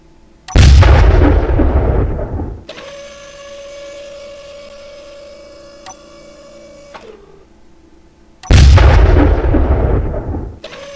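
Two massive turret blasts in the game Space Engineers boom and rumble away, and a mechanical whirring hum runs steadily between them. The sounds are loud, with no voices.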